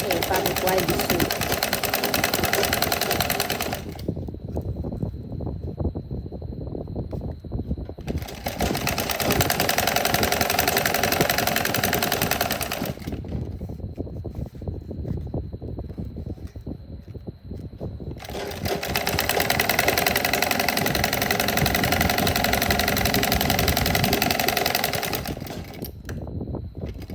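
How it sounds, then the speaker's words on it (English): A sewing machine stitches fabric for a tank top in loud, steady bursts of several seconds each, broken by quieter pauses with a faint high tone. "Make sure you're not stretching your fabric while you sew."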